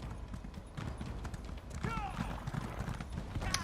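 Horse hooves clip-clop steadily in an Elder Scrolls Online game while riding a mount, with a chirpy bird-like call midway and a player's voice talking over much of it.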